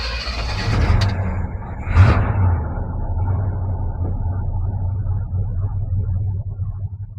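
A 1970 Chevrolet CST10 long-bed pickup engine cranks, catches and revs briefly, then settles into a steady, loud low rumble close by throughout.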